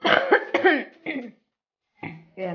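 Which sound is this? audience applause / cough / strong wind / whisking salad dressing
cough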